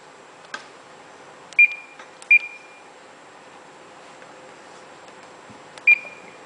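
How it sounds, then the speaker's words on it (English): Ship's bridge GPS giving its WAAS/DGPS signal-lost alarm: short, sharp electronic beeps, three clear tones spaced irregularly over a quiet hum, plus a few fainter clicks. "The WAAS/DGPS alarm. This alarm sounds when the WAAS/DGPS signal is lost."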